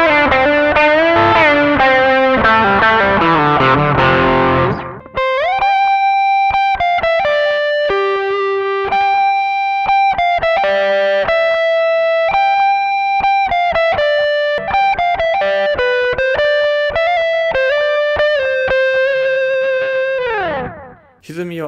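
Electric guitar through an Ibanez ADMINI analog delay pedal, first a distorted chord wash with warm repeating echoes, then a run of single picked notes trailing soft analog repeats, loud and close.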